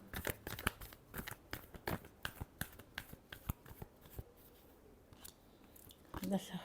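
Tarot cards shuffled by hand in rapid, irregular crisp riffles and slaps, close and fairly quiet, with a pause partway through before the shuffling resumes.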